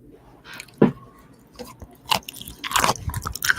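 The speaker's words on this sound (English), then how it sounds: "Now hold the mic up against your mouth while you chew." Food being chewed right against a microphone, with wet crunches, bites and squishy smacks in an irregular rhythm that grows busier toward the end, loud and close.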